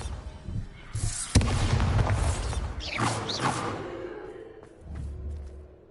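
The Bombarda spell detonates in the Hogwarts Legacy video game, a sharp loud blast with crackling debris and rumbling that fades over several seconds.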